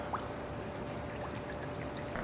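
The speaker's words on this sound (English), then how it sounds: "And then what I do is add water to cover" Water poured into a jar of shredded sauerkraut, a soft continuous trickling and gurgling stream with a few small splashy blips, quiet and close with no talk.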